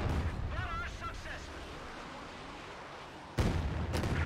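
Rocket artillery barrage from BM launchers pounding a base in a real-time strategy game, a dense rumbling roar of impacts that fades and then bursts back in loudly near the end, with voices underneath.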